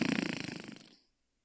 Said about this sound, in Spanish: se escucha el primer ronquido